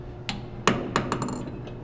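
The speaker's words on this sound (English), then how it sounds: "We're gonna go ahead and pull this out, this drill bit out." A drill bit is pulled free of a lathe chuck while tapping threads: a few sharp metallic clicks and clinks, one louder knock among them, close and short with no talking.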